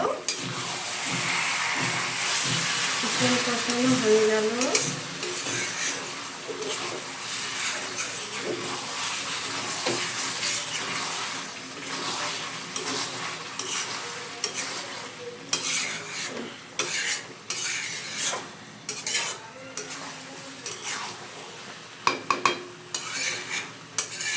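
Chicken is being stir-fried and reduced in a pan with bay leaves. There is steady sizzling and frying with a spatula scraping and stirring, plus clinks of metal on the pan that grow sharper and more intermittent toward the end.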